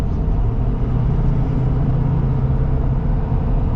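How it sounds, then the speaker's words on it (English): A Shelby Super Baja diesel Raptor on mud-terrain tires cruises down an interstate, giving a steady, loud, low road rumble and tire drone that holds evenly from start to finish. "you're gonna get more noise from those mud terrains. That's a mud terrain tire thing"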